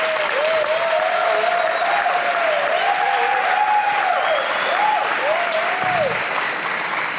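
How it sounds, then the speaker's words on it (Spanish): An audience at an academic panel on racism greets a speaker with sustained, dense clapping that holds steady for several seconds, accompanied by a faint wavering tone. "Y recibimos a Claudia, como sabemos, con un fuerte aplauso."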